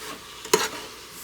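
Onion sizzling in a heated pot, a soft frying hiss with a brief stir or clatter near the middle, faint and short with no talking.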